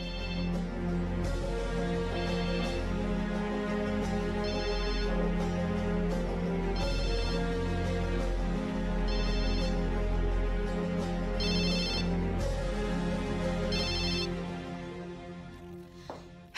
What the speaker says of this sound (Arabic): لازم رد على التليفون